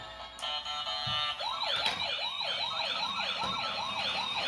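A battery-powered toy ambulance with flashing lights plays an electronic wailing siren, a loud, steady, repeating up-and-down sweep that fills the whole clip close to the microphone.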